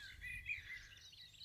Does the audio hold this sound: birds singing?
yes